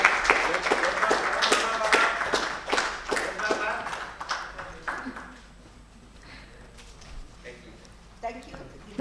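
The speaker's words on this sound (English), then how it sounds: "Can we have a huge round of applause for them?" A burst of applause from a small crowd at an awards ceremony, loud at first then fading out, followed by quieter room noise and a few scattered claps.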